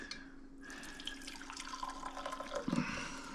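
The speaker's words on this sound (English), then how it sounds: "Pour it through this strainer." Brewed stinging nettle tea poured through a strainer, a steady close trickle of liquid running alone for a few seconds and growing slightly fuller toward the end.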